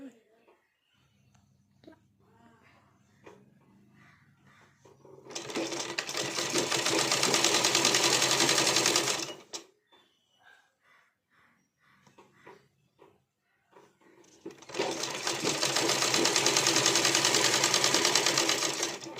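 A sewing machine stitches a blouse in two long, loud runs of steady whirring, each lasting several seconds, with quiet stretches of handling noise and a voice talking between them.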